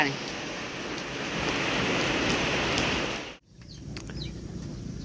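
Steady, dense hiss of rain falling that suddenly cuts away, leaving a quieter patter with faint chirps in the background.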